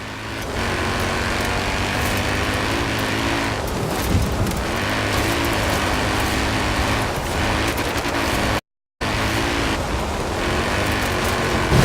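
A loud, steady rally car engine roar from a Mini in a video game runs throughout with a rough rumbling texture, briefly cutting out near the end before resuming.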